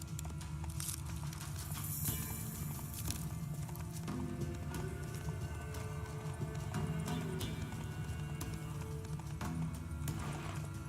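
Roach, Geralt's horse in The Witcher 3, clip-clops along with steady hoofbeats and a snort or whinny, close and continuous over an ambient game backdrop without speech.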